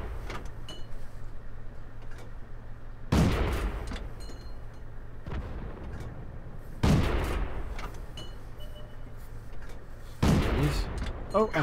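Tank main gun firing in World of Tanks from a Tetrarch light tank, three loud sharp cannon blasts spaced several seconds apart, each with a decaying rumble, over low engine hum.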